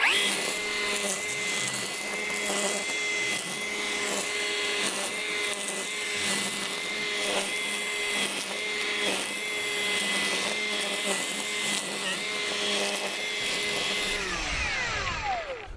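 A Milwaukee M18 FUEL dual battery string trimmer cuts through weeds with a loud, steady high-pitched whine, pulsing as it hits growth, then spinning down at the end.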